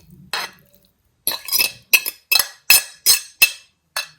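A fork presses salmon against a glass bowl in a run of about eight short, sharp clinks and scrapes. They come at a quick, even pace after one isolated tap, close and fairly loud, with no talking.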